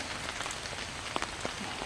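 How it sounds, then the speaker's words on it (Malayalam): Light rain patters steadily on leaves and surfaces in the Periyar forest, a soft close hiss with a few sharper drops landing nearby, and no voices. "ചെറിയ മഴയുണ്ട്"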